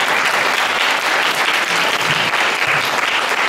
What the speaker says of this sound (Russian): Давайте Анатолию похлопаем.